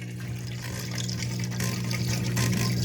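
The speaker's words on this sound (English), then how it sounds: "Our pump is draining." The drain pump of an LG front-load washing machine pushes water out in a steady, close, rushing flow, with a low pump hum underneath that grows slightly louder toward the end.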